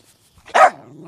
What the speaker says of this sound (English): Bark at him.